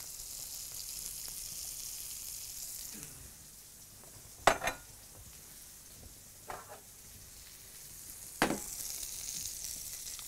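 Butter melting and foaming in a pan as the base for a béchamel roux, a soft steady sizzle with a few sharper crackles and stir scrapes, close and quiet with no talk.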